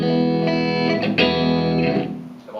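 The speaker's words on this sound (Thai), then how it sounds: "ฟงเสียงนี่คือเสียงคลีน ครับเสียงคีนะครับที่กำลังเล่นอยู่นะ" Sustained clean electric guitar chords ring out through a Fender Frontman 212R amp, a strum around the middle, then the sound decays at the end.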